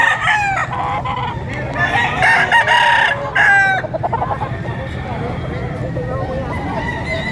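Chickens cluck and a rooster crows loudly nearby at a market, with several overlapping calls against a steady background din.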